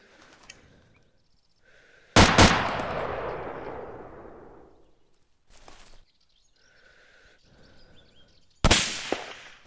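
Two loud rifle shots crack in the DayZ survival game, each followed by a long rolling echo that fades over a couple of seconds, with a softer muffled pop between them and quiet ambience elsewhere.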